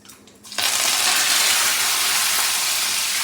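Chilies, urad dal, chana dal, mustard seeds and cumin tempering in hot oil, bursting into a loud, steady hiss of sizzling after a brief quieter moment, close and continuous.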